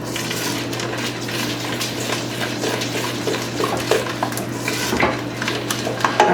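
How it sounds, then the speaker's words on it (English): A pot being stirred on a stove during a home baking day, with a steady clatter of a utensil scraping and knocking against the pot under a constant low hum, ending in a few sharper knocks. "Just gonna stir this down and shut this off."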